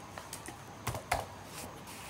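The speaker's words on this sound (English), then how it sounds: "Then you hit enter on your computer keyboard." Keys clatter on a computer keyboard during spreadsheet data entry in Microsoft Excel, with a few light taps and two sharper strikes close up, and no talking.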